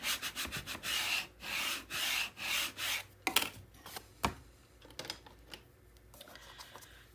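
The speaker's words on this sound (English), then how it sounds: "and then I'm going to give a good burnish." An applied strip is burnished down by rubbing, heard as a series of close, rhythmic scratchy strokes, followed by a few sharp taps and quieter scuffs.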